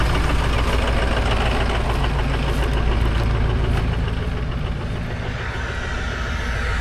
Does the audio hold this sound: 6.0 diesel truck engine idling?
yes